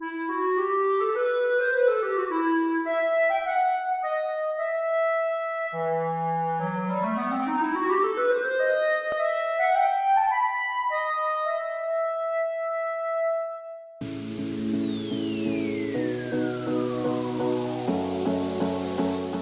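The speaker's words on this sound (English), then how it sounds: "The correct answer is C, the clarinet." A clarinet plays a smooth, flowing melody with sliding runs and held notes, solo and clear, before a different instrument briefly takes over.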